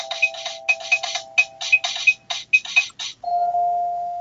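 A bright electronic keyboard plays a 2-5-1 chord progression as a rhythmic pattern of short repeated chords over a held tone, then ends on one sustained chord.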